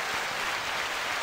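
A short burst of studio-audience applause, steady dense clapping at an even level with no voices, like a canned sound effect.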